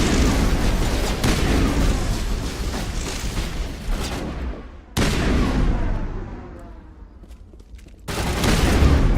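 Sustained video game gunfire from a Mass Effect firefight: dense, loud volleys of shots and booms rolling continuously, breaking off briefly twice before the barrage resumes at full force.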